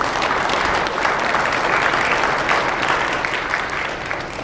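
Audience at a comedy hypnotist's fundraiser show in Center, North Dakota, breaking into a full round of dense, steady applause that fades slightly toward the end.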